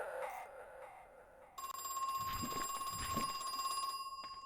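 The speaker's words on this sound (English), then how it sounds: "Phone." A telephone in the horror game Crow Country starts ringing with a sustained electronic bell tone after a brief lead-in, steady and fairly clear over a quiet ambient background.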